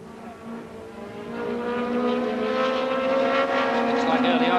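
Race cars accelerating toward the first corner at a 1984 New Zealand Shellsport meeting at Bay Park, a steady engine drone that swells louder over a few seconds, with a commentator talking over it.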